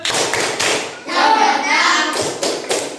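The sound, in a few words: rhythmic group clapping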